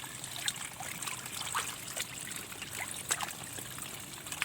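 Water drains steadily from a pipe out of a frog pond during cleaning, a continuous close trickle and splash with no speech.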